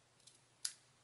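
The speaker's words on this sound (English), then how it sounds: "we can take our scissors, and I like to cut mine so that it's angling down towards" Scissors snip once through a cardstock tag, a single short crisp cut close by, preceded by a fainter small click in an otherwise quiet room.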